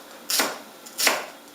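A knife chops vegetables on a board for a Chinese tomato and egg dish, two crisp, close cuts about 0.7 seconds apart, each a sharp bright thud with a short tail.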